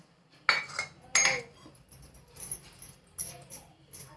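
A spoon knocks and scrapes in a bowl while mixing churma laddu dough of wheat flour, salt and ghee, a few close scraping strokes with quiet gaps between.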